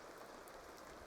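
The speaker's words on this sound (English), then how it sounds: "Oop, it's raining." Steady rain falls in The Sims video game, a soft, even patter that continues without pause and without voices.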